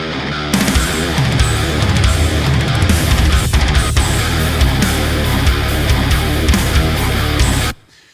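Heavily distorted electric guitar through the JST Menace amp plugin, playing a dense, loud sustained riff with full low end for about seven seconds before stopping abruptly.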